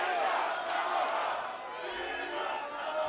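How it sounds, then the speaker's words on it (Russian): Football supporters at a Chernomorets versus Neftekhimik First League match make a steady crowd roar with chanting and cheering for their team. The sound is loud and continuous, and it carries on for the whole stretch. "Болельщики очень хорошо поддерживают команду"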